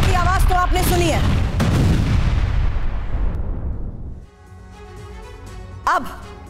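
Heavy blasts from airstrikes on Gaza: loud, deep booms with rolling rumble in the first seconds, fading into a lingering low roar, then quieter background with a brief sharp pop near the end and faint voices.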